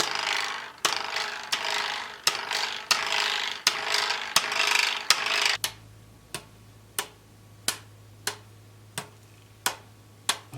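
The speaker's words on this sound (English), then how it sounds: "this eliminates a form of reinforcement which results in a rattling of the internal weight" A mace head without shaft screws, its internal weight loose, is shaken and rattles. A rough, scraping rattle comes first, then evenly spaced sharp knocks about every half second over a low hum, all close by. No voices.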